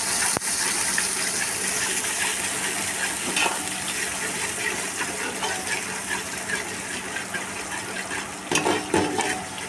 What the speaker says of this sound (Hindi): ये हल्का सा आपने पानी लगाना है